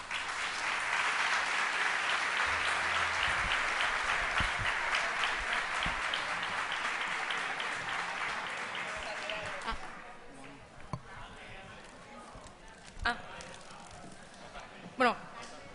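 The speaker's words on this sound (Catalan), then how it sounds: "Despedim el nostre quadre artístic en un fort aplaudiment." A crowd at a Valencian falla presentation gives a strong round of applause for the departing artistic troupe, dense and sustained for about ten seconds before tapering into scattered claps and quiet room noise.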